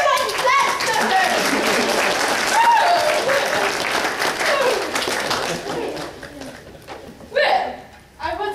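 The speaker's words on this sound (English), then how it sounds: "I said everyone clap for her!" Audience clapping at a community theatre play, dense and steady for several seconds under spoken lines from the actors, then fading, with a brief burst of laughter and talk near the end.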